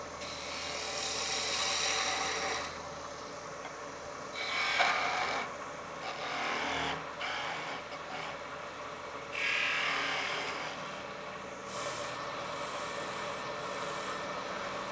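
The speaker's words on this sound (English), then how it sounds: "Bit of sanding." Steady back-and-forth scratching strokes of 240-grit sandpaper on a wooden bass part, close up, coming in bursts with brief pauses between them.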